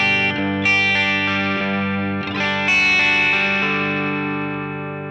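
A Vigier Expert Strat electric guitar played through a Tonex pedal tone model, giving a driven, effects-laden tone with a few struck chords that ring out and slowly decay, heard alone and up close.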